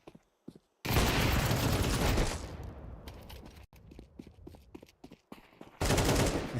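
Counter-Strike gunfire during an ESL Challenger Katowice 2024 match, with a long sustained burst of automatic fire, then scattered sharp single shots, then another loud burst.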